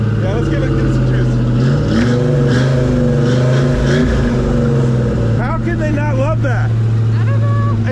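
A Fox Body Mustang engine revs loudly and steadily up close, its low rumble rising and falling, with people talking over it throughout.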